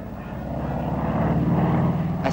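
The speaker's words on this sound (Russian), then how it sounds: "Теперь зрители увидят поединок между двумя новейшими скоростными истребителями" Two new high-speed fighter planes flying in a 1941 Soviet film, heard as a continuous propeller-engine drone that swells slightly louder, with a brief sharp noise near the end.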